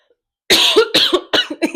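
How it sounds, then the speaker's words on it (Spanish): A short burst of harsh, throaty coughs, three or four in quick succession, loud and close after a moment of silence. "tengo un ataque de tos"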